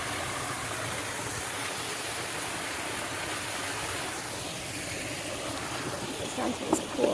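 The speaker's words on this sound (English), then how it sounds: "A waterfall." A waterfall along the Allegheny Front Trail on a backpacking hike, heard as a steady, broadband rushing of falling water that stays constant and fairly close throughout, with a couple of faint handling bumps near the end.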